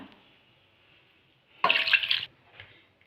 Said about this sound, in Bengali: ছানাটা এবার আমি জল দিয়ে ভালো করে ধুয়ে নেব